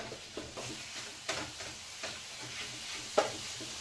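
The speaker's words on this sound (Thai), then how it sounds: "เราก็เล่นเป็นไฟแรงนะฮะแล้วก็ผัดให้หมูสุก" Minced pork stir-fries over high heat in a pan, a low sizzle running underneath repeated scraping spatula strokes that land every half second or so, fairly close and moderately loud.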